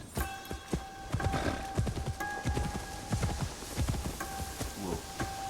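Horse in Assassin's Creed Shadows, its hooves clip-clopping in a steady trotting rhythm, close and clear, with faint ambient game tones behind.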